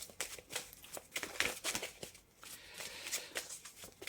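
Tarot cards shuffled by hand, a quick series of crisp riffling and slapping bursts repeating close up, with no talk.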